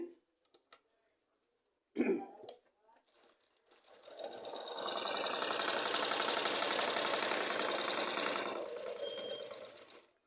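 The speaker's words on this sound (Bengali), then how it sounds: "তো আমি আবারও সেলাই করে আপনাদের দেখাচ্ছি" A household sewing machine with a faulty, bunching upper stitch starts after a few faint taps and a brief noise, then runs steadily and loudly for several seconds before slowing to a stop.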